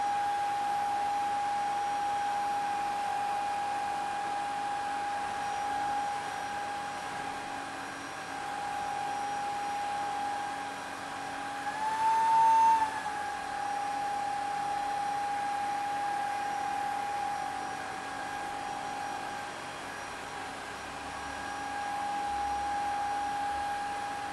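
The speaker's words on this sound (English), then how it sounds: "The Dreame will vacuum and mop at the same time." A Xiaomi Dreame H11 Max wet and dry vacuum vacuuming and mopping at once, giving a steady whirring motor drone with a high whine that rises briefly midway and otherwise holds constant, no talk.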